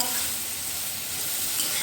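Chickpea masala sautéing with roasted cumin powder in a low-oil vegetarian chhola curry, a steady broadband sizzle and soft stirring rustle filling the whole moment at close range, with no talking.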